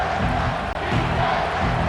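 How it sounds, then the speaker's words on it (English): Stadium crowd noise from a college football video game simulation of ECU versus NC State, a steady loud roar of cheering filling the whole stretch with one brief dropout, no talk over it. "this crowd is tearing the lid off this place"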